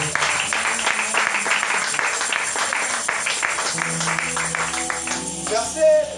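A church congregation applauding in praise, a dense run of claps filling the room with voices mixed in throughout, ending in a brief swell.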